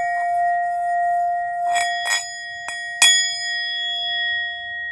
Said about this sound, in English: get the little meditation bell